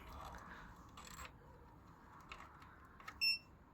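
A Pure Air 3 Pro air purifier under repair gives a single short, clear electronic beep near the end, after quiet handling noises.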